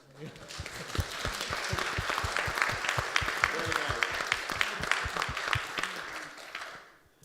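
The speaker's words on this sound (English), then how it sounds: "I think he deserves a round of applause." A round of applause from a small crowd, steady clapping that swells and then fades out, with a brief spoken remark over it.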